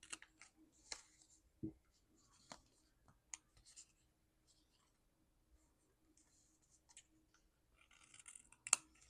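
Scissors snip excess paper from a junk journal page in a quiet room, a few soft, close cuts spaced apart with small rustles between them.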